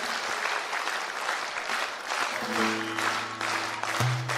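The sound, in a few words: concert audience applause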